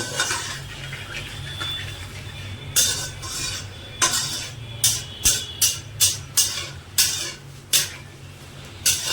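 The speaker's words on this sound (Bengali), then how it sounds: "মশলাটা একটু ভালো করে ভালো করে ভাজবো" A spatula scrapes and stirs spice paste with whole bay leaves as it fries in a pan for mutton masala curry. A steady sizzle runs underneath, broken by a quick series of sharp metallic scrapes that grow rhythmic toward the end.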